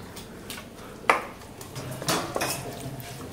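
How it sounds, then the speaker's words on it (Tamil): Mutton keema curry being stirred in a pan, a few scattered scraping and clinking strokes of a spoon against the metal, close and fairly quiet, with no talking. "இப்போ இது வந்து நல்லா மிக்ஸ் பண்ணிக்கோங்க."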